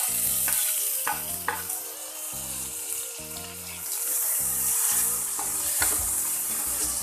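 Onions and tomatoes with a ginger, chili and garlic paste fry in a kadai and are stirred, giving a continuous sizzle with spatula scrapes over a low, steady tonal hum.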